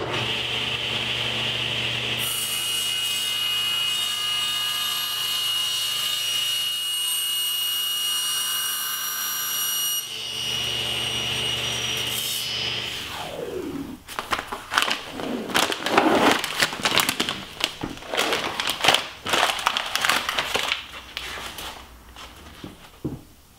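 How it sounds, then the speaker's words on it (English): A table saw fitted with a reversed blade cuts plexiglass for a picture frame. A steady loud motor whine runs first, then gives way to rough, uneven rasping bursts of cutting. No one speaks. "I'm going to cut the plexiglass with my table saw"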